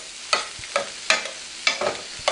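Shrimp going into a hot frying pan for shrimp tarragon, with four short bursts of sizzling and clatter in a steady rhythm, close and moderately loud, no talking.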